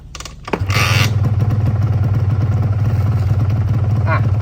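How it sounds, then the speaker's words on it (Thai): A Honda NSR RW150 motorcycle is kicked or cranked to life after a few clatters, then its engine and exhaust settle into a loud, steady, close two-stroke idle. "อ่าที่ได้ยินเสียงท่อเสียงเครื่องกันไหม"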